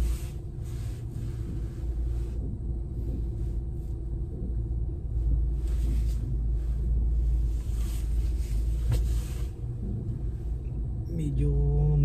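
Inside a car heading home, a steady low engine and road rumble runs throughout. Faint voices and small clicks sit above it.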